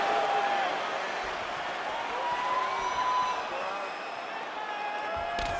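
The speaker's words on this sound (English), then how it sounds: "You hear this crowd just eating out of his hand, oohing and aahing every time he advances." Game crowd murmuring and oohing throughout a UFC 4 video game bout, a steady mid-level arena roar with faint swells and no clear applause bursts.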